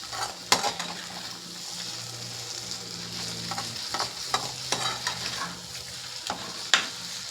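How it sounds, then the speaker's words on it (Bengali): Sago pearls being stirred and lightly fried in ghee for sweet pudding, a constant close sizzle broken by several sharp scrapes and clinks of a spoon against the pan. "ঘি দিয়ে সাবুটাকে একটু ভালো করে নেড়ে হালকা করে একটু ভেজে নেব"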